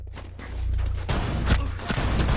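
Gunfire in the video game Rainbow Six Siege cracks out in a burst of several loud shots close together, with dull booms after a quieter opening moment.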